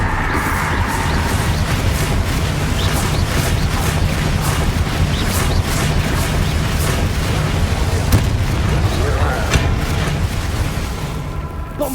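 Repeated Bombarda spell blasts in the Hogwarts Legacy game, a steady barrage of loud booming bursts layered close together over a dense roar of combat noise that runs the whole time without a break.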